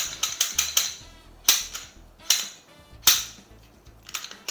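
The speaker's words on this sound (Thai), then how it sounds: "ก่อนหนึ่งก็ต้องขออนุญาตขอเคลียร์ปืนก่อนนะครับ" Glock 19 Gen 4 pistol being cleared: a series of sharp metallic clicks and clacks from the slide and action, loud and close, in irregular clusters with brief pauses between, no voices.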